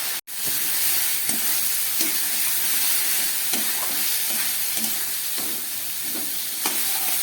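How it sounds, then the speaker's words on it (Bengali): Spice paste with onion, garlic and chili stir-fries in a pan for a tangra fish curry, giving a steady close sizzle broken by regular scraping strokes of the spatula, with no talking. "এই মশলাটাকে এবার ভালো করে কষাবো।"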